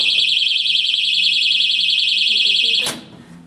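A piercing electronic alarm from an opened AED defibrillator cabinet warbles steadily and loudly for about three seconds, then cuts off with a click, leaving faint room noise.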